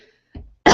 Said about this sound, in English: Oh, man, that was a sexy cough.